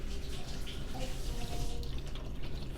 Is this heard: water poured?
yes